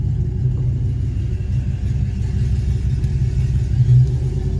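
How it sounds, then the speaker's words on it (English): A TorqStorm supercharged RAM truck engine idles rough with a steady low rumble and uneven pulsing, heard up close with no talk. "The truck is not running good at all."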